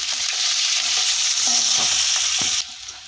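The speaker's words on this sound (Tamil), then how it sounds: "ரெண்டு பெரிய வெங்காயம் சேர்த்துக்கோங்க இப்போ நல்லா வதங்கட்டும்" Two large onions sauté in a pan, a steady loud sizzle with a few soft stirring scrapes before the frying noise drops off near the end.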